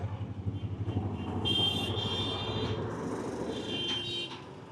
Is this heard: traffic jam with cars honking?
yes